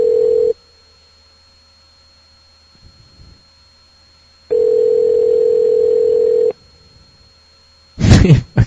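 A telephone dial tone comes on after the other party hangs up on a prank call, sounding as three steady, loud bursts separated by silence, with a brief burst of noise at the end.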